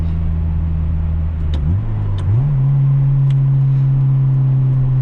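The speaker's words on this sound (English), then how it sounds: "Listen to that engine purr, man." A 1997 Acura Integra's engine hums steadily while driving, shifting smoothly as revs drop and then settle into a stronger, steady drone from inside the car, loud and close with no talking.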